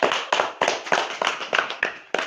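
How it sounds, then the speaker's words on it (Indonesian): A classroom audience claps hands together in a micro-teaching session, producing about eight sharp, evenly spaced group claps in a brisk steady rhythm, close and loud with no talking. "Tepuk tangan dulu untuk kita semua."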